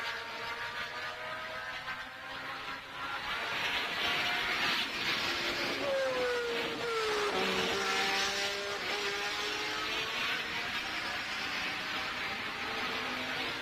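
Formula 1 race cars at the Swedish Grand Prix at Anderstorp, their engines a steady distant roar with one car's pitch sweeping past. A Portuguese-language commentator talks over it.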